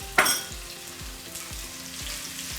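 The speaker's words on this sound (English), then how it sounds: "As soon as that splutters, we're going to add our shallots." Shallots and curry leaves frying in hot oil, a bright crackling sizzle that opens with a sharp burst of spluttering and then stays dense and steady, with rhythmic low thumps beneath.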